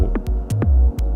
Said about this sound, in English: closer to the synth, this reverb is growing.